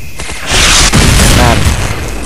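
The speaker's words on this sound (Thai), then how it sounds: "ระวัง RPG ด้วยครับ" A loud RPG rocket blast from the shooter Counter-Strike Zero, a heavy booming burst that rolls out and rumbles for over a second in the middle of the action.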